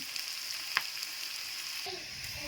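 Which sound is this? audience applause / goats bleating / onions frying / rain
onions frying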